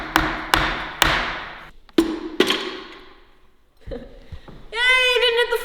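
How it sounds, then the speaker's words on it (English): Hammer striking another hammer while tearing down a Toyota 2JZ engine: five or six sharp, ringing metal impacts spaced about half a second to a second apart, followed by a brief clatter and a high tonal squeal. "Hammer on hammer action,"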